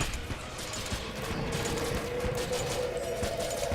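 Rapid, continuous gunfire from a boss named Cannon Balrog in the Enter the Gungeon video game, a dense steady barrage under the player's triple crossbow fight.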